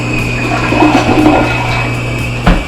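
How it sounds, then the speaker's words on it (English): A toilet flushing in a house with a plugged basement drain line, a steady rushing swirl of water heard close and alone, with a brief louder surge near the end. "Try flushing the toilet."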